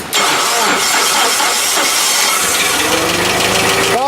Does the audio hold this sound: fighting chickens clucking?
no